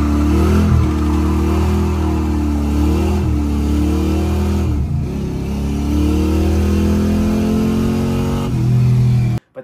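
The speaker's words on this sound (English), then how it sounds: "The 383 in my El Camino has Vortec heads and a mild cam and an RPM air gap intake" A 383 small-block Chevy V8 with Vortec heads, a mild cam and an RPM Air Gap intake, fitted in an El Camino, revs loudly and up close, its pitch rising and falling across several blips before cutting off abruptly.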